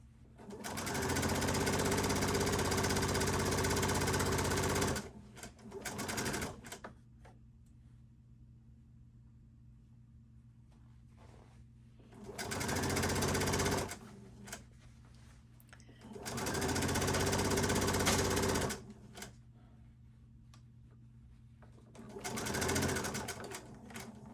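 A sewing machine stitches a shirt seam in four loud, steady runs of several seconds each, separated by quiet pauses with a low background hum, the short bursts marking back tacks at the seam ends.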